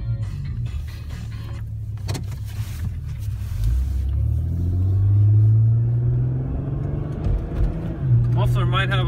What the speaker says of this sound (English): The muffler might have a slight leak to it, but it's not that obnoxious.